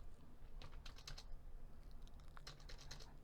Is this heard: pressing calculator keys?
yes